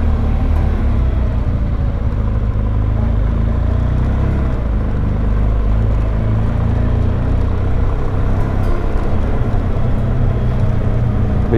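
A touring motorcycle with a loud exhaust rides through the town streets of Segovia, Spain, its deep engine rumble a steady, close, continuous drone with no talking.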